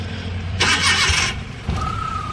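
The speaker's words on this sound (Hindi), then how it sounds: "और गैस पे स्टार्ट करें, क्योंकि देखो पेट्रोल पे इसमें बंद है गाड़ी, गैस पे स्टार्ट करनी पड़ेगी।" Maruti Omni pickup engine cranked on gas, a loud burst of starter whirring followed by a brief pause and the engine catching into a steady close idle.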